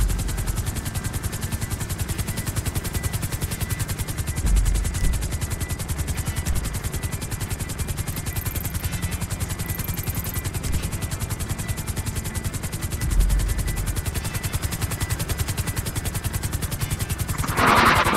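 Helicopter in GTA Online flying near an airfield and power lines, a steady loud rotor drone with constant rapid chopping throughout, no talking.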